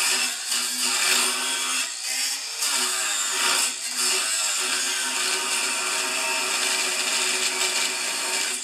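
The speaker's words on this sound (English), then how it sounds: "Grind it off and then cut it." Angle grinder cutting metal for a homemade snowblower scraper bar on a Toro: a steady, harsh, high grinding whine with brief dips as the tool bites, loud and close, with no talk.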